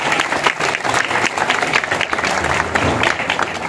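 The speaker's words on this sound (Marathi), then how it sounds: "जोरदार टाळ्या वाजवा।" A crowd at a children's drawing competition prize event claps loudly for a young winner, a continuous, lively round of applause with no talk.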